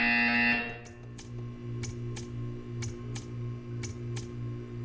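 In the Portal 2 art test, a loud electronic buzzer sounds for under a second, followed by a string of soft, evenly spaced ticks over a faint steady hum.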